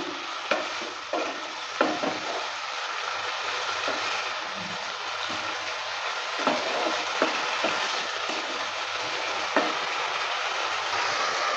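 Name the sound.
stirring frying spices and banana flower in a pan with water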